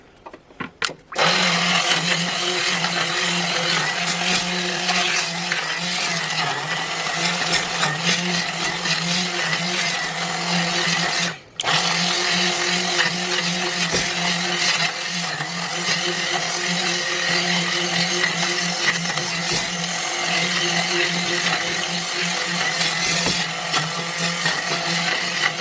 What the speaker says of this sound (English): next up, immersion blender